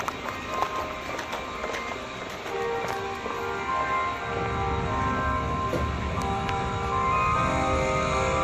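An old coal train rumbles past in town, a steady rolling clatter with rising low rumble and intermittent clanks, heard at moderate distance amid street ambience.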